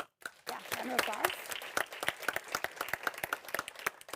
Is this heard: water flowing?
no